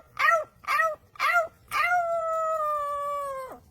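A pet parrot mimics a dog howling: three short rising-and-falling yelps, then one long sustained howl that holds steady before cutting off, loud and close.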